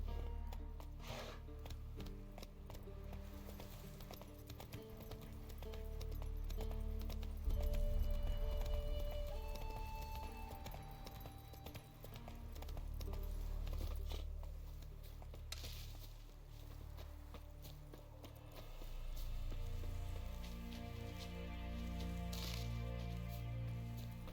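Geralt's horse Roach trotting in the Witcher 3 game world, hooves clip-clopping in a steady rhythm, with a brief whinny and background game music throughout.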